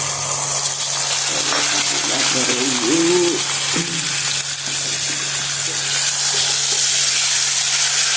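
A loud, steady sizzle of peas frying in hot oil fills the clip, with a low constant hum underneath and a brief tonal sound partway through.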